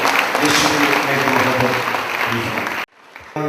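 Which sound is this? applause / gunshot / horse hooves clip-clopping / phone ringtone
applause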